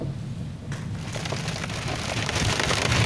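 Heavy rain pours steadily during a thunderstorm in Ingushetia, a dense, continuous hiss that swells slightly toward the end; no voices.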